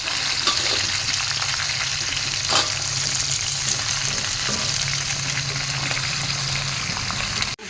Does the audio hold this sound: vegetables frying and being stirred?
yes